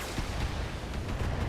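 Mech weapons fire in the BattleTech tactical game: a steady low rumble broken by a few sharp booming shots, with no talking.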